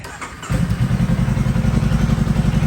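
A 2020 Honda Rebel 500 motorcycle engine fires up after a brief quiet moment, then settles into a loud, steady, throbbing idle close by.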